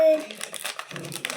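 A crinkly plastic blind bag packet holding a flower toy is torn and crumpled open in a quick, close burst of crackling rustles, with a voice briefly audible.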